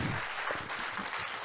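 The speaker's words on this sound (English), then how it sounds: "Come on, the claps have to go on." Audience applause at an award presentation during an inaugural function, a steady round of clapping heard close and continuous without talk.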